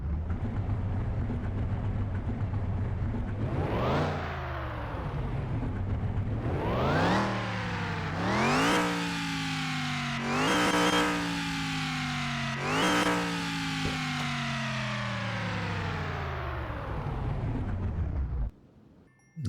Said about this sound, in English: Now let's start the car and hear it.